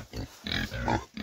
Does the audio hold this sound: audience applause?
no